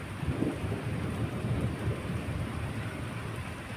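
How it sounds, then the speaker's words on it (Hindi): In the hills of Himachal Pradesh, heavy rain pours down steadily, with a deep, rolling rumble of thunder running underneath the whole time. "ये देखो अब बारिश, देखो कितनी खतरनाक बारिश हो रही है"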